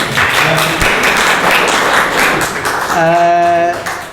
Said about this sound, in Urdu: کھل کے تالی بجائے نا